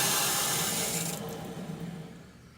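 Water rushes into a big blue whole-house filter housing as the inlet valve is slowly opened after the bypass is closed, a steady close hiss that gradually eases and thins over a couple of seconds.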